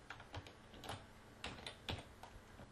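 Quiet, irregular clicks of computer keys come in short clusters as a folder name is typed on a keyboard, soft and close with no talking.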